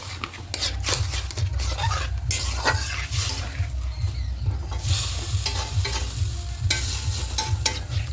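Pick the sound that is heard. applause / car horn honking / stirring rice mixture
stirring rice mixture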